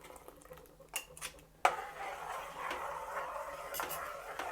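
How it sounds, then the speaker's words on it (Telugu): Potato mash being stirred into boiling water in a pot, with a sharp utensil knock against the pot and then steady scraping and bubbling close by. "ఇలా కలుపుతూ ఉండాలి"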